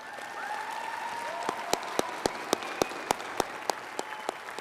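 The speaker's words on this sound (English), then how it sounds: "Would you give me a round of applause for her, please?" Audience applause at the FRCC Larimer Campus 2022 graduation ceremony, a soft distant wash of crowd clapping with a few sharper nearby claps standing out in a regular rhythm, and a faint voice carrying over it early on.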